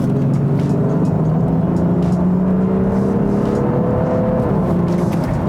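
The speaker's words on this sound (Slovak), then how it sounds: "to spredu počuješ 12 valec" The V12 TDI diesel engine of an Audi Q7 revs steadily, its deep throaty drone rising and falling slightly in pitch, continuous and close throughout with no talking.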